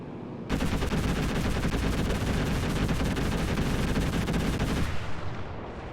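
Dense, sustained small arms gunfire in the Enlisted shooter game, a loud continuous rattle of rapid shots kicking in after half a second and running nearly five seconds before cutting to a quieter tail.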